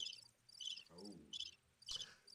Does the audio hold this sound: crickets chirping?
yes